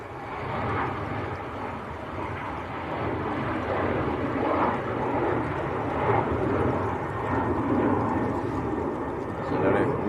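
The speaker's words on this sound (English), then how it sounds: "Here comes the Air Portugal, going back down to Lisbon, an Embraer 190." An Air Portugal Embraer 190 airliner makes a low, steady climb out of Manchester Airport, heard as a broad, even roar that swells slightly, with faint voices underneath.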